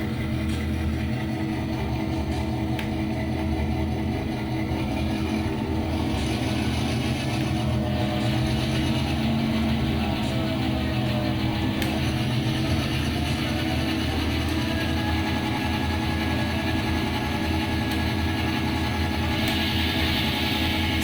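A model train locomotive motor being throttled up on a layout gives a loud, continuous mechanical hum and rumble that holds steady without pause, with no talking.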